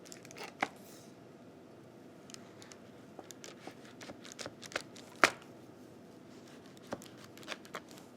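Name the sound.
large French knife cutting apart shortbread cookies on cutting board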